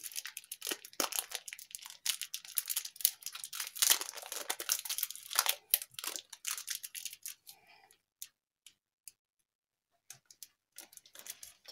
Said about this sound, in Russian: Также закрепляю скотчем.